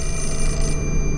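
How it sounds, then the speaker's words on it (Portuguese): A telephone rings in the video game Fatal Frame: Mask of the Lunar Eclipse, a loud, steady electronic trill that fills the whole moment over a low background hum. "Tocou o telefone, galera."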